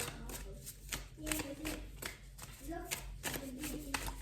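Tarot cards are riffled and shuffled by hand close up, quick repeated papery flutters and taps, while a voice talks quietly over them.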